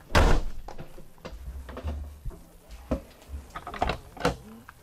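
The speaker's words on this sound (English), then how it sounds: "Then I'm gonna close this door and I'm gonna open the man door" RV door on a wheelchair-accessible camper swung shut: a loud close slam at the start, followed by scattered softer clunks, latch clicks and handling noises nearby.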